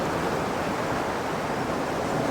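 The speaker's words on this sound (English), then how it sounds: "There's another wave coming in. I'm just waiting for a wave to come over these rocks" Ocean waves wash and splash over coastal rocks at Camel Rock, a steady, loud roar of surf and spray filling the whole moment with no voices.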